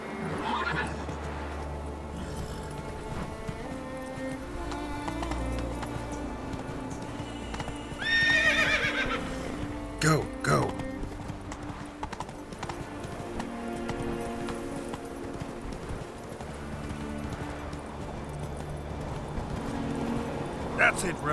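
Horse in The Witcher 3 galloping with steady clip-clop hoofbeats throughout and a clear neigh partway through, while a voice speaks over the gameplay.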